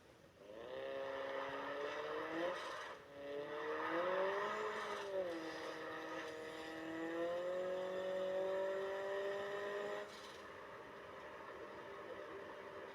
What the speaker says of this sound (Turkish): Şimdi ben arabanın sesini dinleteyim size.